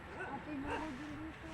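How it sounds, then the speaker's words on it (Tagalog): Several dogs bark and yip at a moderate distance, a run of rising and falling barks under a person's nearby talking. "daming aso doon"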